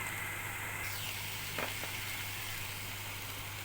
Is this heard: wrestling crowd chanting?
no